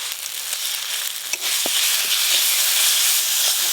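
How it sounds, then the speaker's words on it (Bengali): Ground spice paste hits softened tomatoes in a hot pan, a sudden surge of close hissing sizzle that swells and holds steady after a few clinks of utensils. "এবার উপর দিয়ে ভাজা রাখা বাটা মশলাটা দিয়ে দেবো।"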